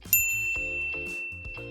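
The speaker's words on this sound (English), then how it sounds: "ring the bell to be notified about our latest videos" A bright notification bell dings once sharply, its clear ringing tone lingering over soft background music.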